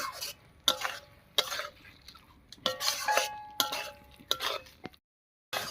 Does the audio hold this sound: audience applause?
no